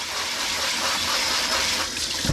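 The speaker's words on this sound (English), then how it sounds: "Stuff comes right off of it if you rinse it immediately." A rasp grater is rinsed under running water, giving a loud, steady gushing rush that stays constant throughout.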